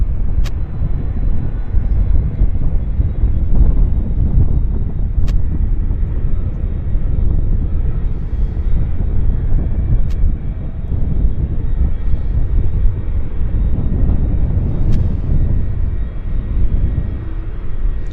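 A KLM jet airliner at Vancouver International Airport gives a loud, steady roar of engines, a broad rumble that holds the same level from start to finish with no speech.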